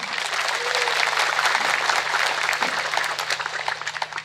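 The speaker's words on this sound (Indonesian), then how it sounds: "Tepuk tangan untuk NU" Audience at an Islamic religious gathering in Jabung, East Lampung, breaking into loud, sustained clapping from a large crowd, dense and continuous throughout.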